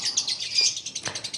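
A lovebird gives a quick run of sharp, high chirps and tweets, close and clear, over about a second and a half.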